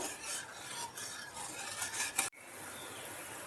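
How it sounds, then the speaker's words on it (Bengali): A spoon scrapes and stirs whisked yogurt into a bubbling fennel and ginger paste in a pan. The rhythmic rasping strokes are close and continuous, then cut off sharply before a quieter simmer. "ভালোভাবে নেড়ে দিতে হবে।"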